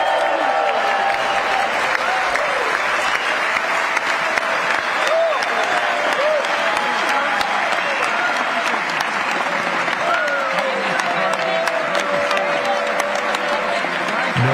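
Sustained applause and cheering fill the chamber of Congress as the President arrives for his address, dense steady clapping from a large audience with scattered voices and shouts throughout.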